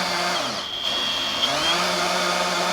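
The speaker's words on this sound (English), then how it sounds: "This year we got this little drill powered winch, and man, this makes it so easy." A small drill-powered winch runs on an off-grid tiny house build site, giving a steady, close motor whine that shifts pitch as it works under load, continuous throughout.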